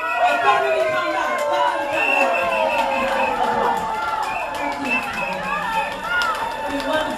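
A concert audience at an 80s Flashback show in Ipswich, 2013, keeps up a continuous wash of cheering and chatter. A performer speaks over the crowd.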